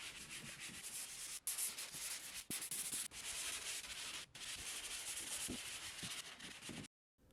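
Hand sanding of dried drywall mud on a wall before an accent wall is built, a continuous close scratchy rubbing broken by a few short pauses, ending in silence.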